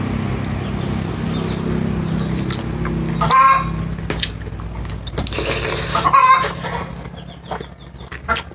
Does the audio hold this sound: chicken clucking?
yes